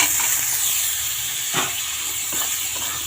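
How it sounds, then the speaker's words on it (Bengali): Chopped jackfruit seeds fry with onion in a pan, giving a loud, steady hiss and sizzle close up, with a few soft stirring scrapes and no voices. "কাঁঠালের বিচিটা একটু ভাজা ভাজা হয়ে গেলে"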